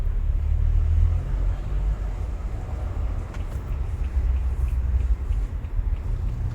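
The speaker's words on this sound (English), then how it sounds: "Car is a 2014 BMW 335i with stage 2 with mod 3," A 2014 BMW 335i F30 with stage 2 tune and full bolt-ons driving, a steady deep engine rumble and road drone from inside the car, continuous with slight swells.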